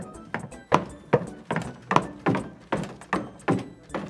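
Footsteps thudding at a steady, walking pace, about a dozen heavy steps, fairly close with no talking.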